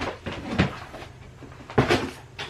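Wooden drawer of socks in an abandoned storage unit opening with a couple of sharp knocks and scraping thuds, close by, with short quiet gaps between them.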